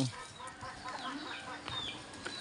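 Gamefowl chickens cluck quietly inside a chicken coop, with faint, scattered calls and soft rustling throughout.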